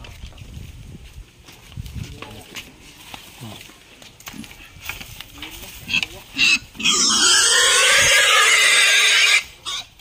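Pigs at a farm grunt and snort intermittently among background chatter, and a long loud squeal-like burst comes near the end, close and sharp.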